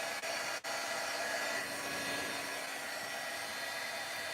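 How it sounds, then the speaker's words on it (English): A heat embossing tool blows hot air with a steady, even rushing hiss, moderately loud and unbroken after two brief clicks at the start. "sorry about the noise, but I'm about to heat emboss."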